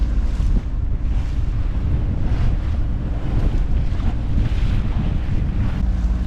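A sailboat heads out through Winyah Bay Inlet on a north wind and an ebbing tide in rocky water, with loud, continuous wind buffeting the microphone over the rolling wash and slap of waves against the hull.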